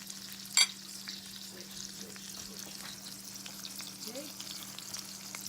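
Butter sizzles steadily in a shaken pan while eggs cook in red wine sauce, a soft continuous frying hiss with a brief louder clatter near the start and a steady low hum underneath.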